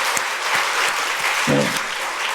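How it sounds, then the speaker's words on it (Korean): A church congregation claps together in praise during a sermon, a dense, even wash of applause lasting a couple of seconds with a faint voice briefly surfacing midway. "우리 하나님께 영광의 박수를 한번 치겠습니다."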